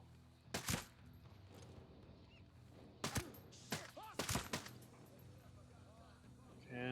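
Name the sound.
gunfire in video game Ghost Recon Breakpoint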